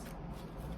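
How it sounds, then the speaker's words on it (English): Oracle cards being shuffled by hand, a soft continuous papery riffle and rustle, close and quiet, with no voices. "Another shuffle."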